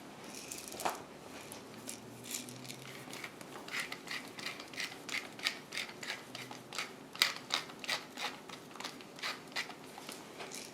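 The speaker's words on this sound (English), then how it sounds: "Some freshly ground black pepper." A pepper mill grinding black pepper over a pasta dish, a close series of quick crunchy ratcheting clicks in an uneven rhythm, quiet and alone.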